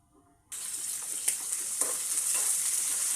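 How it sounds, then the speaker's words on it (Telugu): Green chillies with cumin, mustard seeds, sesame and coriander seeds hit hot oil and sizzle abruptly, then crackle in a steady, close frying hiss with occasional sharper pops, and no one speaks. "పచ్చిమిర్చి బాగా నూనెలో వేయించిన తర్వాత"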